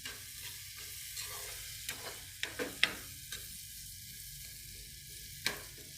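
Vegetables sautéing in a pan for a chapati side dish, a low steady sizzle with scattered soft scrapes and taps of a stirring spoon, close and fairly quiet.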